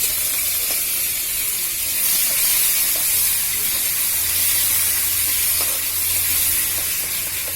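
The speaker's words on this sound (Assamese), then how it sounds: "পিঁয়াজ আৰু টমেটো এইখিনি অলপমান দালিত দিবৰ কাৰণে, সম্ভাত মাৰিবৰ কাৰণে" Onion and tomato fry in hot oil for a dal tempering, giving a steady broadband sizzle and hiss with faint scattered pops, heard close and continuous without speech.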